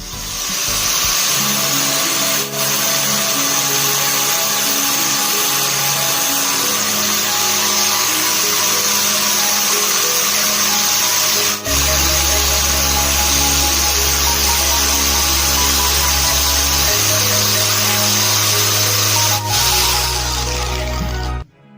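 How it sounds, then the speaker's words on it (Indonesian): An electric grinder whines continuously while cutting and sharpening the tip of a metal hook tool used to remove a motorcycle magnet seal, a loud steady high-pitched drone whose pitch shifts under load, with no talking. "Oke, sekarang kita gerinda dulu ya"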